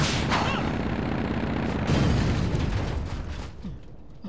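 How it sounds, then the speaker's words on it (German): A motorcycle explodes in the video game Castlevania: Legacy of Darkness, a loud booming blast with a crackling burst that rolls on and slowly fades. "Aber ohne Fahrer explodiert das Motorrad offenbar grundlos."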